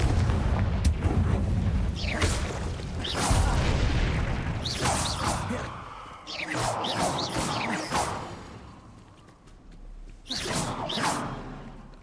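Booming Confringo spell blasts in Hogwarts Legacy, several loud explosive bursts with whooshing tails that strike at irregular intervals across the stretch, separated by short quieter gaps.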